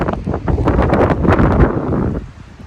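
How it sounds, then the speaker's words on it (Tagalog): Strong blizzard wind in Canada roars and buffets close to the microphone in a continuous loud rush that eases toward the end. "Grabe rin yung hangin, no?"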